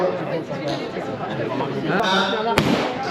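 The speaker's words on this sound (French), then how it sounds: "Au coup de pistolet." A starting pistol fires at the start line of a running race, a sharp crack rising over steady crowd chatter and nearby voices, with a possible second report just before it.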